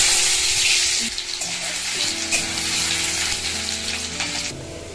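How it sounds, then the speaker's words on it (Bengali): Hot oil sizzles steadily in a wok (kadai) in a home kitchen, ready for cooking spinach with potato and eggplant, a close constant frying hiss that softens slightly after the first second. "কড়াই তেল বসিয়ে দিয়েছি"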